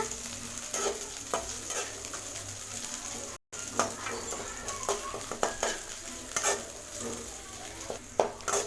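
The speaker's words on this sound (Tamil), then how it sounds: "கட் பண்ணி வச்சுருக்கிற பச்சை மிளகாய், கருவேப்பிலை இது இதோட சேர்த்து வதக்கிக்கலாம்" Green chillies and curry leaves sauté in a pan for beetroot poriyal, a low steady sizzle over a gentle flame broken by frequent scraping stirs of a spatula, close and continuous without speech.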